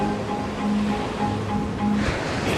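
Ocean waves wash steadily onto a beach shore, a broad continuous rushing noise with a faint wind component and no speech.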